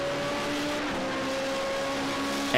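A Formula Renault 3.5 race car at the Hungaroring, its rear-mounted 3.5 litre V8 screaming at high, steady revs with a slight pitch dip as it shifts, loud and continuous with no talk over it.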